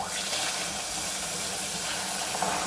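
Milk poured into melted sugar in a hot pan gives a loud, steady, bubbling hiss that holds evenly for about three seconds, with no voices.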